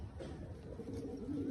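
A pigeon in a loft gives a brief, soft, throaty coo, fairly faint against quiet background noise.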